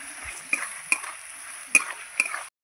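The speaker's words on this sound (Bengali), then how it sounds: "দিয়ে মাছগুলো ভালো করে কষাবো।" Fish being sautéed with spices in a wok, giving a steady soft sizzle with about four sharp scrapes or taps of a spatula against the metal, close by, with no voices.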